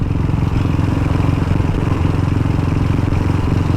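A Velocette Venom motorcycle ridden on the road, its single engine close and loud with a steady, rhythmic thumping drone and no pause that stands out. No one speaks.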